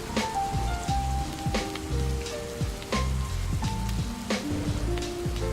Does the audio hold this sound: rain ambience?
yes